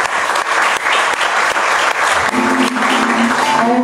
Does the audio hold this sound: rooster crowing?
no